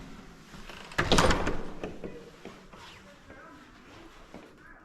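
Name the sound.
door being opened for arriving guest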